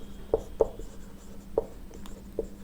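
A pen writing on paper during a maths lesson: a few soft, short scratchy strokes, close and quiet, with no talk.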